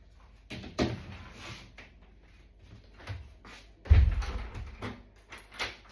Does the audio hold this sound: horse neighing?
no